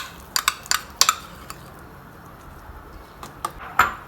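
Urad dal being stirred into water in a cooking pot, with a scattering of sharp metallic clinks and ticks from a spoon against the vessel, clustered at the start and again near the end, over a quiet background.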